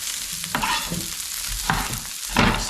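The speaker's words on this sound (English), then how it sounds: "Let's get some onions in there." Mixed red and white onions frying in a paella pot over gas, a steady close sizzle broken by several scraping stirs of a utensil through the pan, no voices.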